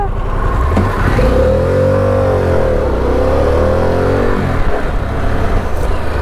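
A Harley-Davidson Pan America 1250 motorcycle pulls away from a stop at a green light in sport mode, its engine note rising steadily and loud, then settling, heard close with continuous road noise.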